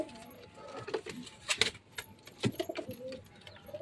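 Soft pigeon coos come and go amid a cluttered indoor background with some rustling and light clinks, fairly close.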